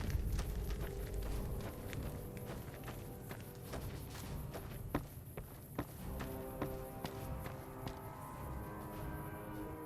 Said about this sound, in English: Heard your footsteps coming up the ramp.